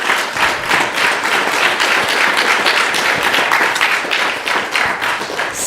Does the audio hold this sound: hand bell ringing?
no